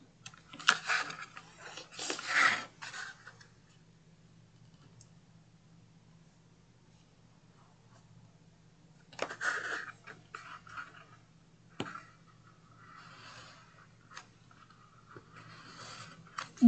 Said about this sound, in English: Then I'm going to take my finger blade and just cut this out.